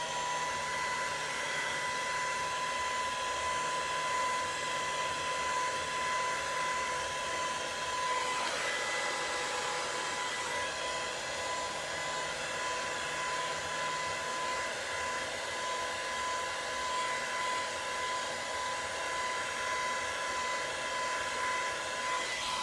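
A blow dryer runs on low heat while stretching hair, holding a steady, even whoosh with a faint whine throughout and a brief shift midway, near and alone, with no speech.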